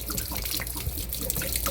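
Water draining out of the water heater on a Mallard M-185 camper, a steady close splashing trickle with a continuous gush that holds even throughout.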